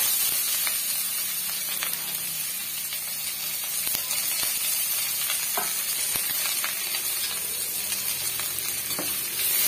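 Onions, six or seven dried red chillies and curry leaves sizzle loudly and steadily in hot oil, with a constant frying crackle and occasional stirring clicks, close up and with no talk.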